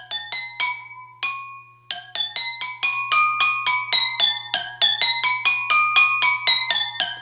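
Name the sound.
water-filled glass cups played as musical notes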